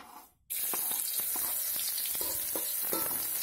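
Garlic dropped into hot oil for a broccoli and carrot stir-fry, a sudden loud sizzle bursting in after a quiet start, then steady hissing frying with light stirring taps.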